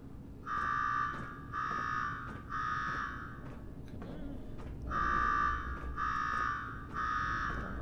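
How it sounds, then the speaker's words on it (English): An alarm rings in the video game Fallout 4 as a harsh electronic buzzer, three long blasts, a pause, then three more, loud against a low background hum. "Now go shut off that damn alarm."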